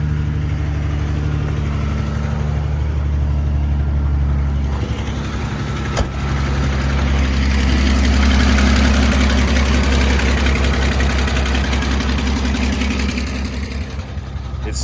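A 1985 Ford F-150 with the 300 inline-six engine idles after a cold start, a steady loud low rumble close by with a slightly uneven beat throughout.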